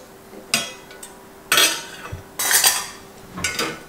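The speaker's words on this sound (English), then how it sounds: "Then the steamer goes on top." A metal steamer insert for Salad Master cookware set onto a pot on the stove, giving a few distinct metallic clanks and clatters spaced across a few seconds, close and fairly loud, with no talk.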